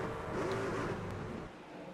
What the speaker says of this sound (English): You hear him shifting down to 3rd, getting on the gas just a little bit too early